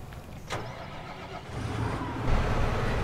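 A Massey Ferguson tractor engine in Farming Simulator 19 hums at a low idle, then swells twice as the revs build toward the end, with no talking over it.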